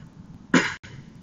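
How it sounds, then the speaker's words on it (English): A single sharp cough from a player commentating a Golf Clash mobile game tournament, loud and close, ending abruptly, with quiet room tone before and after. "Sorry if I cough in and out."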